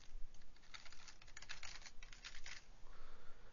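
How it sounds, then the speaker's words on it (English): Typing on a computer keyboard while working in Flash and Illustrator, heard as quick, close clusters of clicky keystrokes in short irregular bursts, followed by a brief pause and a few more taps. "Type out some characters."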